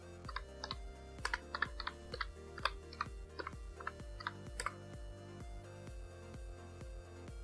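Keys clack on a computer keyboard as a channel name is typed into YouTube's search field, a quick uneven run of close, crisp clicks over a faint steady hum.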